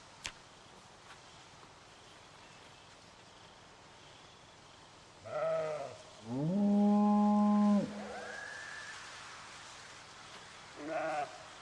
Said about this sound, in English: Look at that fluffy sheep